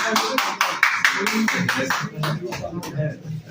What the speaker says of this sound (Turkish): Hasan Gürkan kardeşimiz alkışlarla